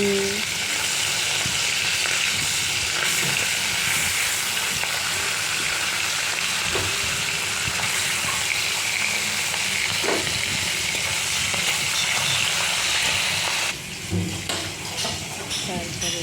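Hilsa fish frying in hot oil in a wok gives a steady, loud, dense sizzle throughout, with brief clinks of a utensil and a slight drop in level near the end.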